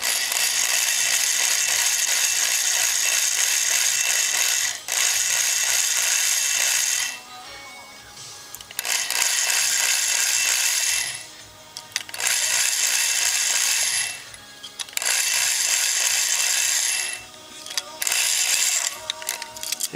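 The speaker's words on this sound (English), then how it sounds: "we're gonna blast the tops of these rivets off here" Power drill with a 7/32 inch bit boring the heads off rivets, a loud, close whining grind running in several long bursts separated by short pauses.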